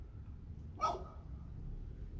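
A single short dog bark rings out from outdoors on a nice day, distant and fairly faint against quiet indoor background.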